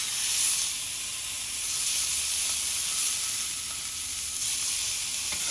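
A sous vide London broil sears in a hot pan, giving a continuous bright sizzle and hiss of frying with no talk over it.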